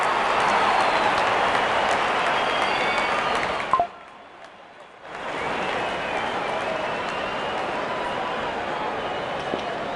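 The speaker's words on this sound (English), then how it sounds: "There's such a wonderful crowd in to watch their favorite players." Crowd cheering in the Real Cricket video game, India versus Australia: a loud, steady roar of stadium noise that drops out briefly and then resumes at full strength.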